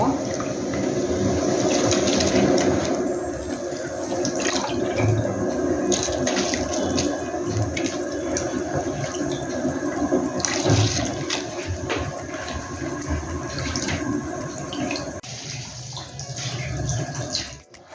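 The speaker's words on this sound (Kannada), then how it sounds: "ಕುದಿ ಬರ್ತಾ ಇದೆ ರೈಸ್ ಹಾಕ್ಕೊಳ್ಳ" Rice added to a pot of boiling water for prawn biryani: a loud, continuous rush of bubbling, churning water, close up, with a faint voice now and then underneath.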